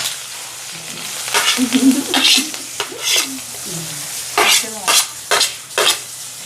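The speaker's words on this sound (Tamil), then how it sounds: "அதுக்கப்புறம் சின்ன வெங்காயமும் கருவேப்பிலையும் உள்ளே போட போகிறோண்ணா." Small shallots and curry leaves sautéing in a pan with cumin, a bright crackling sizzle that flares in bursts as a spoon stirs and scrapes, with clinks of metal and no voices.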